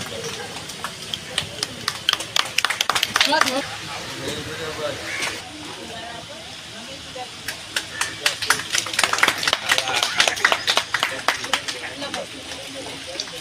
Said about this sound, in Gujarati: ખૂબ ખૂબ તાળીઓના ગળાટથી આપણે સ્વાગત કરીશું